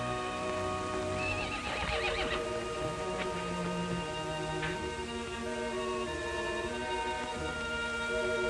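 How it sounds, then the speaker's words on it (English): A horse whinnies and neighs, with a couple of rising calls that stand out over steady background noise in an open outdoor setting. "It's your horse, standing out there as pretty as can be"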